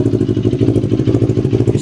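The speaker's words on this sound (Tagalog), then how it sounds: "I-start lang natin siya mga ilang seconds para mapaikot lang yung langis ng gusto sa makina niya." A motorcycle engine idles right after an oil and filter change, a close, loud, steady rhythmic chugging that holds even throughout with a slight clatter and no talk.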